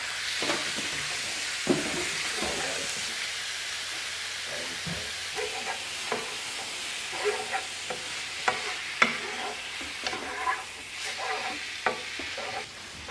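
Chicken frying in a pan over medium heat gives a steady sizzle and hiss, with scattered clicks and scrapes of stirring throughout and no one speaking.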